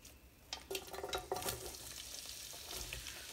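Onion, ginger and curry leaves sizzle in hot oil for an egg roast gravy, with a steady frying hiss and repeated scraping stirs building from quiet after half a second.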